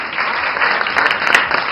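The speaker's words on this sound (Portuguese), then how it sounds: "Eu quero aplausos." Applause during a podcast recording, a steady, dense burst of clapping that stays loud and even, with a few sharper claps standing out near the end.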